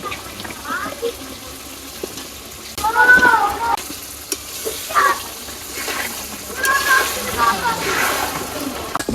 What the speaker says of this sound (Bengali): এখানে মশলা কষান হয়ে গেছে এখন এই আলু দিয়ে দিলাম